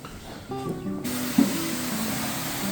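Avocado oil sprays from a can onto a grill rack in short hissing bursts, close by and fairly quiet.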